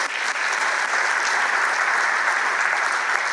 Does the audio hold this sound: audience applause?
yes